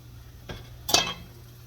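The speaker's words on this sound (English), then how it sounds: "You hear that grease popping?" A brief crackle and sizzle of hot grease popping as flitter bread batter fries, with a soft scrape just before, close and fairly quiet.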